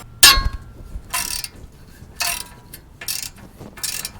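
Ratchet clicking in short bursts while a 19 mm castle nut comes off a Subaru's suspension, with a metallic clink at the start and then four or five quick ratcheting strokes, close and clear with no talk.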